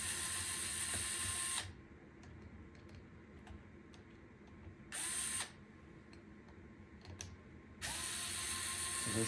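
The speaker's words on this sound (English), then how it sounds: "So there's 4 screws holding this front motor housing in place. That's what I'm doing right now." Screws come out of the motor housing of a Lasko 12-inch oscillating table fan, model FT30-8MBB, in quiet tool ticks and small clicks between louder bursts of broadband noise.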